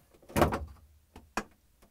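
A cover panel being pulled off inside a GE refrigerator gives a loud plastic rattle and scrape, followed a moment later by two short, sharp knocks close by.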